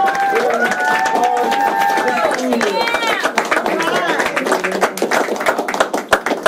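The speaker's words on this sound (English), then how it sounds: "please give them a huge round of applause" Clapping from a school board meeting audience honoring a student group, scattered sharp claps running throughout while several voices talk and chatter over them nearby.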